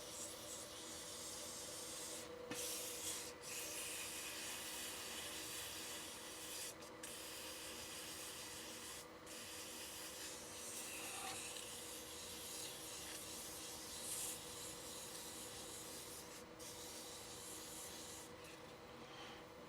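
Wet sanding of a shaving brush handle coated in sanding sealer, using 600 grit sandpaper: a steady, close rubbing rasp that keeps going the whole time in short repeated strokes, with no talking over it.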